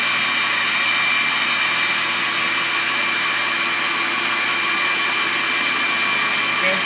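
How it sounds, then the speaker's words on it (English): Drum sander with a conveyor feed sanding wood, a steady loud broadband roar with a constant hum, close and unbroken throughout, no voices. "that's the speed I was looking for to put the wood through the sander"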